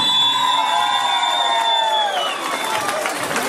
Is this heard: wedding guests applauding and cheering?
yes